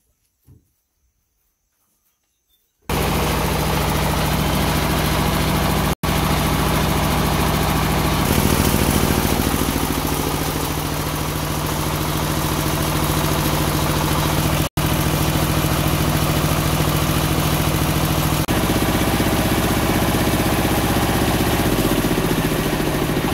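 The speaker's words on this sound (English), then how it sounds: "This is a machine that will be used to haul coffee." A coffee-hauling machine on a coffee farm starts up and runs with a loud, steady engine drone that holds for about twenty seconds, broken only by two brief dropouts.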